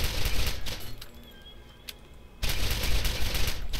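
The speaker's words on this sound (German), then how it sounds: "jetzt kann ich doch schneller schießen, als ich Munition regeneriere" Rapid gunfire from a weapon in the video game Borderlands, loud dense bursts of shots that drop away briefly in the middle before resuming at full intensity.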